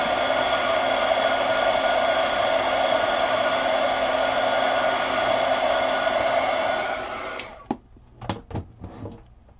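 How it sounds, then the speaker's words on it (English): A heat gun blows steadily on a painted junk journal cover, its loud, even whirring roar running for about seven seconds before cutting off, followed by a few faint knocks and handling sounds. "I'm just going to put the heat gun on that for just a second."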